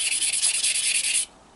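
Stone pipe being wet sanded with sandpaper dipped in water, a run of about a dozen quick, close rasping strokes in steady rhythm, then stopping.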